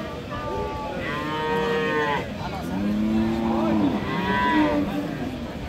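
Cattle at a weekly village livestock market in Dinajpur, Bangladesh, including Friesian cows, low drawn-out moos from several animals, one after another, loud and close over steady crowd murmur.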